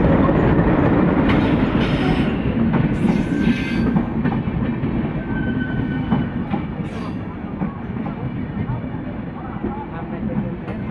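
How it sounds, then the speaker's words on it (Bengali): Passenger train rolling into a busy station on a friends' trip to Rajshahi, Bangladesh, with loud continuous rumble and wheel clatter, a few sharp high squeals and brief bursts of noise, and a crowd murmuring on the platform. "চলে এসে ট্রেন।"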